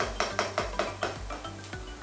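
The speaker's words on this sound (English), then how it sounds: "get the garlic in, and we're gonna stir them up." Garlic and onion are stirred in a pan for a vegan stir-fry, making about seven quick, rhythmic scraping knocks of a utensil against the pan in two seconds, close and clear, with no voices.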